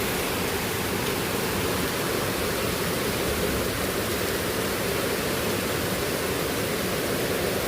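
Heavy monsoon rain pours down steadily in Mumbai, a dense, continuous roar with no breaks from start to finish.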